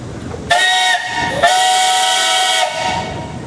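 A loud steam engine whistle at an engineers' club parade blows in two long sustained blasts with a short break between, its harmonic tone steady and piercing.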